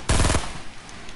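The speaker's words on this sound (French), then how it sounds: "je voulais spammer une minigun" A video game minigun lets loose one short, loud burst of rapid-fire shots, then cuts off and leaves quieter game noise behind.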